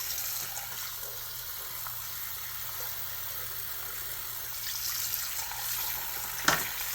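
Tap water running steadily into a sink while dentures are rinsed, a constant near hiss with a brief splash near the end.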